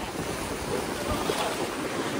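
Sea waves wash ashore at a beach in Goa, a continuous broadband surf rush with wind buffeting the microphone, steady and close, with no speech.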